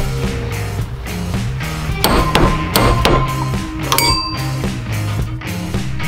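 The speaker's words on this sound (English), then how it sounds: "Torque the flywheel down to 65 foot-pounds." A wrench torquing down the flywheel of a Predator 212 go-kart engine to 65 foot-pounds, held with a homemade crankshaft stop, gives off repeated sharp metallic clanks and ringing clinks at an uneven rhythm, close and fairly loud.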